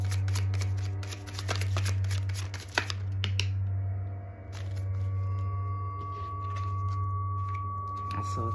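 Tarot cards shuffled in rapid, papery riffles for several seconds, close and clear over a steady low hum, with a faint tone and softer card handling toward the end.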